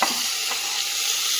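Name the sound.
onions frying in a pan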